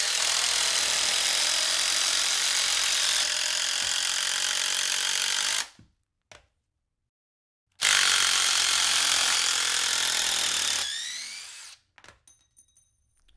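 DeWalt XR power drill running at speed 3 (3,200 RPM) driving a 6-inch general construction fastener, two sustained loud bursts of whining motor with a pause between, winding down at the end.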